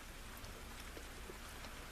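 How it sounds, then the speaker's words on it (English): Steady rain pours down outdoors at a wet campsite, a dense, even hiss of drops on surfaces that stays constant throughout with no voices. "Here comes the rain."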